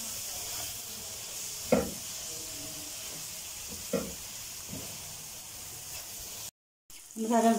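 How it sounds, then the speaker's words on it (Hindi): Achar gosht masala roasting in a pan for achari bhindi: a low, steady sizzle and hiss throughout, broken by a few brief stirring scrapes and a short dropout near the end. "हमारा मसाला जो बहुत अच्छी तरह से भुन गया है"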